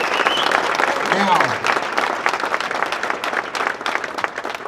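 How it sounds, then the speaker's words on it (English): Audience applause for ceramic coating manufacturers from an auto detailing crowd at the SEMA 2019 show, a steady wash of clapping throughout with someone speaking briefly over it near the start. "let's give them a big round of applause"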